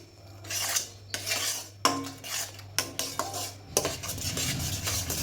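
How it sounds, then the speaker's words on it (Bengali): A metal spatula scrapes and clatters against a wok in quick irregular strokes, stirring a mash of pointed gourd and ridge gourd peels, with soft sizzling underneath; close and fairly loud. "এটা কিন্তু নেড়েই যেতে হবে না হলে কিন্তু নিচে লেগে যাবে"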